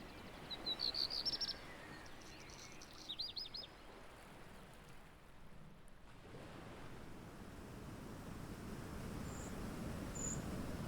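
Thin, high bird calls sound in short bursts near the start and again faintly at the end, set over steady wave-like surf and wind in a summery outdoor game scene with Eurasian treecreepers.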